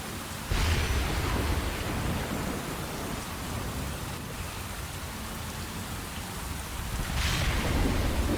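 Rain-and-thunder ambience used as a tabletop game sound effect: steady, loud hiss of heavy rainfall throughout, with low rumbles of thunder swelling near the start and again near the end, no voices.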